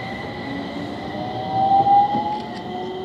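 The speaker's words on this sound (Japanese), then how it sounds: "電車が来ます。 ご注意ください。" A Utsunomiya Light Line tram approaches with a steady mechanical hum and rising whine, a brief louder swell midway, close and clear with no talk over it.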